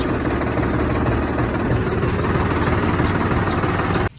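A tractor pulling a farm trolley drones steadily and loudly at close range, with an even engine rumble that cuts off abruptly near the end.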